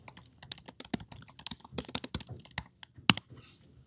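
Computer keyboard typing at a desk while working on building elevation sheets in design software, a run of close, crisp keystrokes with uneven rhythm and a few louder clacks, no voices.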